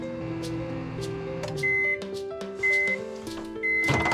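A microwave oven hums steadily while running off a portable power station in a campervan, with a few short electronic tones sounding over the continuous drone.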